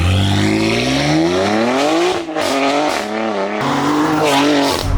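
A BMW G87 M2's engine roars loudly and revs through rising gear changes as the car pulls away, with tires squealing briefly.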